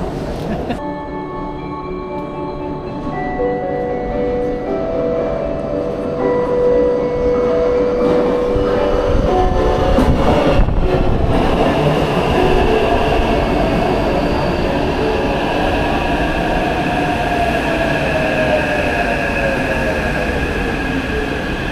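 Metro train ride in Taipei, Taiwan, a loud continuous rumble of wheels and car noise with tonal whines from the motors and squeals from the rails, rising and falling as the train travels, with a voice heard faintly under the noise.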